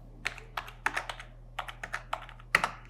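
A date of birth typed on a computer keyboard: a dozen or so crisp, uneven keystrokes in small bursts with one sharper tap near the end, close up over a faint steady electrical hum.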